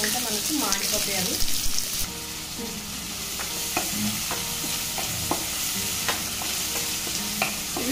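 Onions and green chillies fry in a hot pan, a steady hiss of sizzling oil with spatula scrapes and stirring clatter throughout, close and fairly loud, with no talk.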